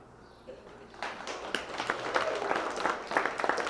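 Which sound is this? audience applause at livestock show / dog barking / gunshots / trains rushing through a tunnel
audience applause at livestock show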